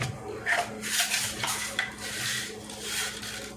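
Mustard seeds dropped into hot sesame oil in a pan for a fish curry crackle and sizzle close by, mixed with steady scraping and clinking of a utensil against the pan.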